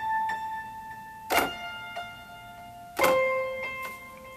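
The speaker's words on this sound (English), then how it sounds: "Later on in the song you're going to be using a delay piano" Delay piano on a worship keys patch: two struck chords around 1.3 and 3.0 seconds, each ringing out in sustained tones with softer echoing repeats trailing after, moderately quiet and alone with no voices.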